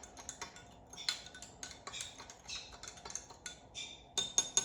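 A spoon clinks and scrapes against a cup while stirring sugar into a solution, a quiet, irregular series of small metallic taps and swishes with no voices.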